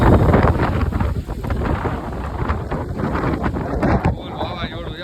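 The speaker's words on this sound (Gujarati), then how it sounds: "ફૂલ વાવાઝોડું છે ફૂલ" A strong night windstorm raising dust in a village, gusts roaring and buffeting the microphone in a loud, continuous rush with surges and dips, a voice speaking briefly over the noise.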